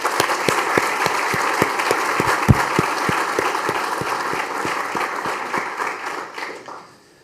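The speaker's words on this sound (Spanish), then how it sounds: "Así que les pido un aplauso para Sebastián, que nos mira desde el mundo." Applause from the audience at an economic seminar, many hands clapping with a few distinct sharp claps standing out, loud and steady before fading out near the end.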